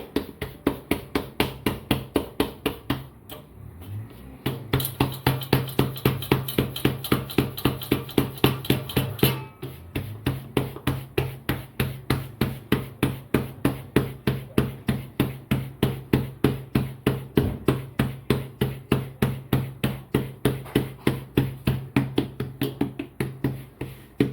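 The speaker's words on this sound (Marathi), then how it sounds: "तर अशी आपण थापून घ्यायची भाकरी" Bhakri flatbread dough being patted out by hand, a steady rapid rhythm of soft slaps repeated dozens of times, close and clear, with no talk.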